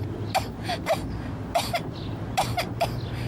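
A child with a severe cough and a throat and lungs clogged with mucus coughs in several harsh bursts, in pairs and threes, close and fairly loud over a low background hum.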